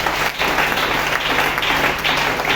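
A church congregation applauds and cheers loudly and continuously, a dense wash of clapping with voices mixed in.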